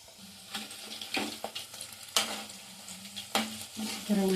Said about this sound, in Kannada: ಎಣ್ಣೆ ಬಿಸಿ ಆದಮೇಲೆ ಈ ಥರ ಬಿಡಿ